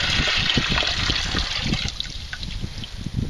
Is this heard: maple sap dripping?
yes